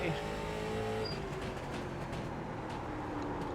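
Engine drone of a NASCAR late model race car in the iRacing sim, a steady loud rumble that eases slightly as the throttle changes, with a voice talking over it.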